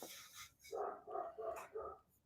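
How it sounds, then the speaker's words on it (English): A dog barks four times in a steady rhythm indoors, each bark clear and moderately loud, with a brief noisy sound just before. "I have no idea what he's barking at."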